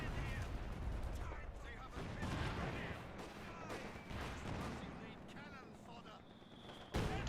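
Sherman tanks and infantry trade fire in a WWII strategy game, with continuous dense gunfire, cannon booms and machine-gun bursts layered into a chaotic battle din. Faint voices talk under the fighting.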